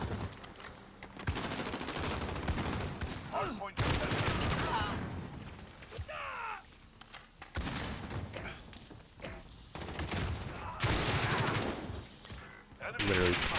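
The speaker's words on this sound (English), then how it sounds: "What am I shooting at?" Gunfire crackles in bursts in the video game Rust, several volleys spread across the stretch, with someone talking over the shots.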